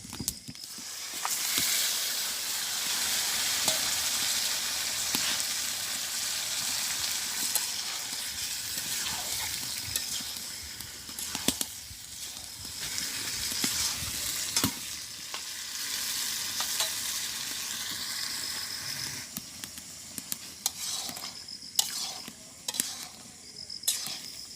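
Meat frying in oily, well-cooked spiced masala, a steady close sizzle with stirring and scraping clatters throughout, louder bursts near the end.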